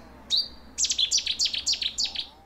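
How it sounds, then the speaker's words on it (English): A Cetti's warbler sings near and loud at a wetland nature reserve: one sharp opening note, then a fast explosive burst of repeated bright phrases, clear against a quiet background. "you are far more likely to hear a Chetty's warbler. They've got a really loud, explosive song."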